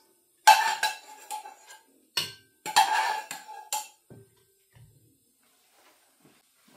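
Broccoli and sprouts being dished out with metal utensils, a few sharp clinks and scrapes against a pot and plate in short clusters, close by, then fading to quiet.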